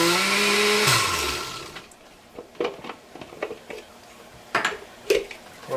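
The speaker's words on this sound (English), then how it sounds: "we'll put the garlic in the blender, put the lid on, let's go ahead and liquefy" A blender liquefying garlic whirs loudly for about a second, then a few short bursts of blending and clattering follow with pauses between.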